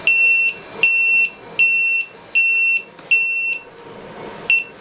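A low-voltage alarm buzzer, a three-in-one battery alarm module, sounds about six loud, high-pitched electronic beeps in a steady on-off rhythm, close up.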